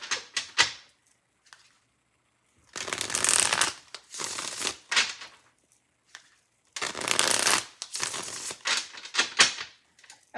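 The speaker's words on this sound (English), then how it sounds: "I love the sound of a shuffle." Tarot cards being shuffled in several bursts of riffling and flapping, close up, separated by short silences.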